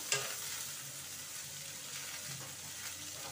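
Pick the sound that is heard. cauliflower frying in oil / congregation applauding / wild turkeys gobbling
cauliflower frying in oil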